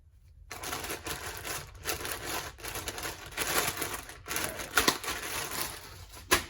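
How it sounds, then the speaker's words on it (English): Paper crinkling and rustling while a journal card is cleaned and handled up close, a steady run of soft crackles and rubs with brief pauses and no talking. "Sorry for the crinkling."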